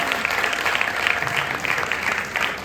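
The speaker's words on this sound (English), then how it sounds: "Another round of applause for the cast and crews." Theatre audience at a university stage play applauding the cast and crew, a dense, steady round of clapping from a sizable crowd, moderately loud and sustained.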